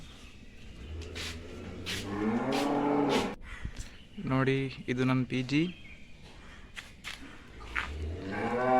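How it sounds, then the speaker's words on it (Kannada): Cattle low and moo at a rural cowshed amid greenery, several drawn-out calls rising loud and near, with someone speaking between them. "ಇಲ್ಲಿ ದನ ಸಾಕ್ತಾರೆ ನೋಡಿ, ದನ ಕೊಟ್ಟಿಗೆ ಇದೆ."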